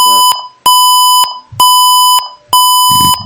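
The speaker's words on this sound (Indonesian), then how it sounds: "sensor akan berbunyi jika jarak kurang dari 200 cm" An IoT car parking sensor sounds its alarm when an object comes within 200 cm, giving four loud, clear electronic beeps at an even pace, each about half a second long with short gaps between them.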